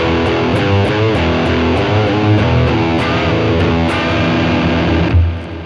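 Heavily distorted electric guitar playing a riff of sustained chords with a few rhythmic accents, loud and upfront with no voices.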